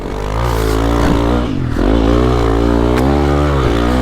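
A Honda CRF300L dual-sport motorcycle engine running steadily up close on a first ride, a loud continuous drone with slight rises and dips in pitch as the throttle shifts.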